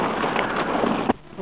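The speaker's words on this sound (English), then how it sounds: "it's raining like crazy" Heavy rain pours steadily outdoors during a truck retrieval, a dense constant hiss close by with a brief knock near the end.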